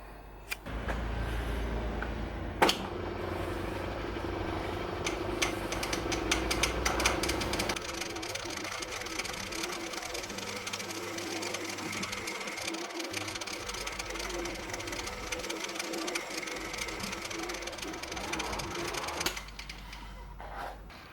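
A metal-turning lathe cuts slots into a threaded locking ring, with the cross slide fed slowly by hand. A steady mechanical whir and chatter runs for about twenty seconds at moderate, close level, with no talking.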